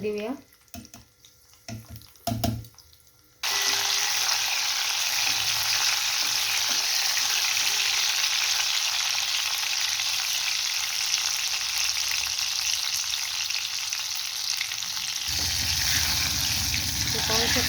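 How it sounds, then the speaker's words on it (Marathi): Chopped garlic fries in a pan in a steady, loud sizzle that starts abruptly after a few seconds of quieter clatter, then crackles on evenly. "लसूण परतायला टाकूया"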